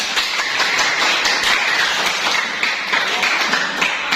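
A classroom of students claps for a classmate, a dense, even patter of many hands close by that continues for several seconds without a break.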